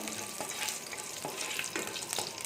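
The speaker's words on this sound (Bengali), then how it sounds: "যে আগে শুকনো লঙ্কা, পাঁচফোড়ন," Dried red chillies and panch phoron fry in hot oil, a quiet continuous sizzle with soft stirring scrapes and small crackles, close at hand and without talk.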